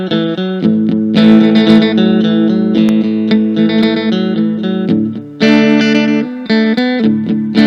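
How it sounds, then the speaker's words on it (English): Electric guitar with a touch of reverb picks twangy country riffs, bright sustained notes and chords ringing out in a steady, loud phrase with no talking. "just a touch of reverb like this, those kind of twangy tones. So a little bit of country kind of riffage goes well here."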